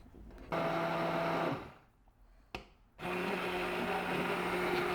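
A hand blender blitzes homemade pumpkin soup in two loud, steady bursts of whirring motor, separated by a short pause with a brief knock, then running continuously to the end.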